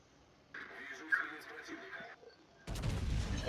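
Naval artillery booms in a warship game: a broadside from a Soviet battleship class ship lands as a heavy, loud low-end blast near the end, with a brief mid-band rumble of gunfire and battle noise before it.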